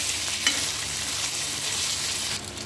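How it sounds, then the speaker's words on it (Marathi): Taro (arbi) stirred into a hot oil tempering in a pan, giving a steady bright sizzle with soft scraping stirs throughout and a slight dip near the end. "तडक्यामध्ये व्यवस्थित मिक्स करून घेतली अरबी"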